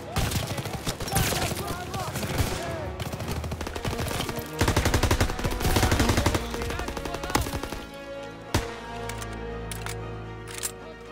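Rapid machine-gun bursts and heavy shotgun blasts from a World War II first-person shooter, Call of Duty WW2, fire in dense volleys for most of the stretch, then thin out to a few scattered loud shots near the end.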